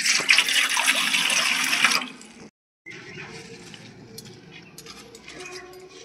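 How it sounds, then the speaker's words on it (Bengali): Kharkol (elephant foot yam) leaves are washed in a kitchen: water splashes and pours loudly for about two seconds, then after a brief silence comes quieter wet handling and dripping. "পাতাগুলো এখন আমি ভালো করে বেছে ধুয়ে নেব।"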